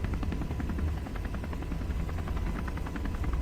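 A spacecraft lifting off in Kerbal Space Program gives a quiet, steady engine drone with a rapid, rhythmic pulsing flutter that runs unbroken throughout.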